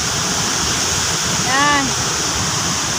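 Strong floodwater from a river after rain rushes in a steady, loud roar of broadband noise that holds throughout, with a brief tonal whine rising over it near the middle.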